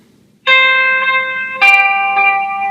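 Electric lead guitar with effects playing a verse part: two clean sustained notes ringing out in turn, close and clear with no one talking.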